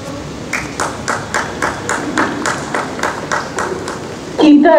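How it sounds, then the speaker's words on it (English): A school audience at a Republic Day ceremony claps in a steady, evenly spaced rhythm, about ten crisp beats together, before an announcer's voice comes in at the end. "keep the applause going."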